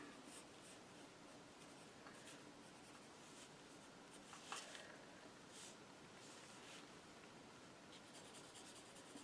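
Graphite pencil shading on drawing paper, a steady soft scratchy rasp of continuous strokes, quiet and close with a few brief stronger scrapes partway through.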